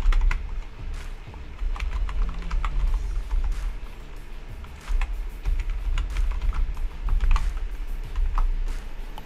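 Steady typing on a computer keyboard as a web address is entered, a continuous patter of close, crisp keystrokes with short pauses and no speech.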